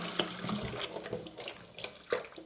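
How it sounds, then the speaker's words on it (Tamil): Tap water runs faintly while lentils are washed and rubbed by hand for a Sri Lankan dal curry, a soft continuous trickle with light splashes and small clinks close by. "மூன்று நாலு தரம் நல்லா பருப்பை நல்லா கழுவணும் இப்படி கசக்கி கழுவணும் திருப்பியும் தண்ணி விட்டு விட்டு"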